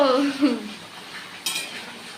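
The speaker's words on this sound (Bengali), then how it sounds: "এই যে আমার বড়দি এখন এখানে রান্না করছে" Utensils clink against a pot while fish curry with kochu mukhi (taro) simmers on a home stove, a few scraping and stirring knocks close by, with a brief voice near the start.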